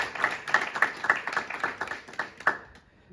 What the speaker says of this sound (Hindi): भरपूर तालियां जी शमशाद साहब के लिए भी